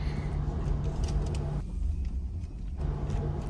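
Car creeping slowly up a rocky, uneven road near Puncak, giving a steady low engine rumble with a faint tonal hum, heard close and continuous with no voices.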